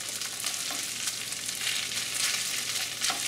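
Longganisa sausage frying in a pan, a dense, continuous crackling sizzle up close, with occasional soft scrapes and knocks as it gets stirred.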